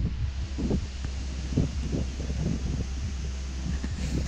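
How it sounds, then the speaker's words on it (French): Strong wind buffets the microphone in continuous low rumbling gusts, with a steady roar and no voices, at a carp-fishing spot. "Il y a un vent de fou qui vient de se lever."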